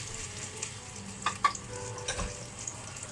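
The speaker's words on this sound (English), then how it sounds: "So we've got a nice little sizzle going on in that now." Pork chop sizzling in a hot pan with its fat, a steady close frying hiss broken by a few soft clinks and stirring sounds.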